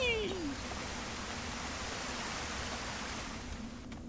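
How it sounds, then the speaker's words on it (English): A waterfall in the video game Xenosaga I gives a steady, even rush of hissing water, soft and unbroken throughout, with a brief rising tone at the very start. "That's a nice little waterfall there."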